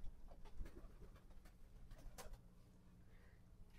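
Pigeons cooing softly inside a pigeon loft, low throaty coos repeating over a faint background with a few brief flutters and knocks, no talking.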